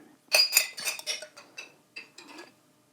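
A metal spoon clinks and scrapes against a jar or bowl while mixing Hellmann's real mayonnaise, a series of close, bright taps that fade toward the end.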